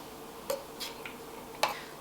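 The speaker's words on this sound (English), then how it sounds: "that's actually the caramel kind of cracking and in the pan, because as it's cooling, it's going to start to crack" Caramel left in a pan for flan cracks as it cools, giving a few faint, sharp ticks and snaps spaced irregularly against a quiet kitchen background.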